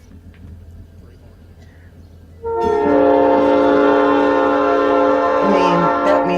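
A train passing close by, loud rumble rising suddenly and holding, with a sustained multi-tone horn blaring over it for several seconds.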